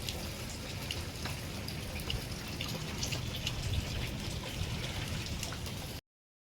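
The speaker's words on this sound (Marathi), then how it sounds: "पाऊस बघा" Rain falls in Mahabalwadi village as a soft, uniform patter of drops on surfaces, steady and fairly close for several seconds before cutting off abruptly.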